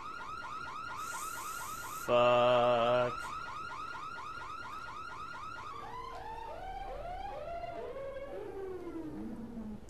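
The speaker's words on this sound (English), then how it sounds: "Turn off the alarms." Car alarm inside the video game Dead Island, looping a warbling, chirping electronic siren pattern loudly and steadily for the whole stretch, with a brief louder burst of harsh tones early on and one muttered word.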